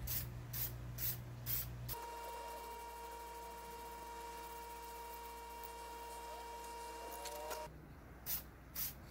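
A few short hisses from a spray can of varnish, followed by a steady mechanical hum with tonal whine, then two more quick sprays at the end.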